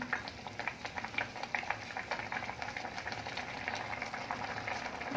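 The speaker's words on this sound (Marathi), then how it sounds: "आता उकळी आलेली आहे पाण्याला" Water comes to a boil in a cooking pot, producing a continuous close bubbling and gentle rumble that holds steady throughout.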